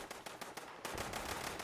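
Enclave plasma rifle fire in Fallout 76, a run of sharp repeated bursts about every fifth of a second, then a dense continuous stretch of crackling shots, all fairly faint.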